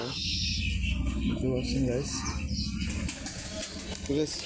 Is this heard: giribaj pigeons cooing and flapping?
yes